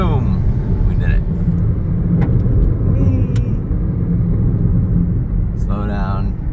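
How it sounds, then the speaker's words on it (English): A car on a scenic mountain road accelerates to overtake a truck, with a loud, steady engine and tyre rumble throughout. A few faint voices cut in briefly near the end. "let's try to zoom past this truck"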